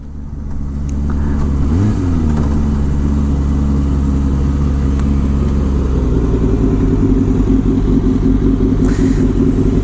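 A Kawasaki ZX-25R rides along a road in rural Saitama, Japan, its engine running loud and close. The pitch climbs sharply once under acceleration, settles, then rises again more slowly, with steady wind noise throughout.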